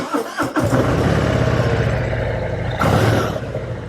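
A Harley-Davidson Heritage Classic 114 motorcycle engine cranks and fires up, settling into a loud, deep, lumpy rumble with a brief burst of throttle near the end.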